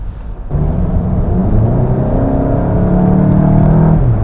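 A 2015 VW Golf GTI's 2.0 engine and exhaust growl from inside the car on the road, a loud steady drone rising in pitch as it accelerates, with no talking.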